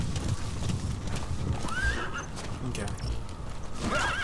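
In the video game Metal Gear Solid 5, a horse whinnies with rising neighs while its hooves clip-clop steadily, heard beneath someone talking.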